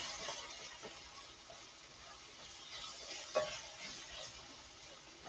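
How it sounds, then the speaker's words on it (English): Black-eyed peas drop into a hot pan to deglaze it, giving a soft, faint sizzle and steam hiss with a brief stir-like clatter partway through. "When I put the beans in, it's going to deglaze again."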